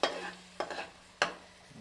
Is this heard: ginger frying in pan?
yes